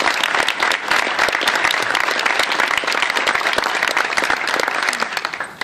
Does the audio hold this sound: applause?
yes